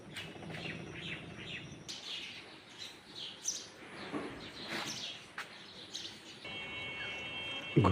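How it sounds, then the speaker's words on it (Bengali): Birds chirp and tweet outdoors on a morning roadside, including dove calls, with bright scattered calls over low background noise and a passing hiss toward the end. "পাখির কিচিরমিচির শব্দ"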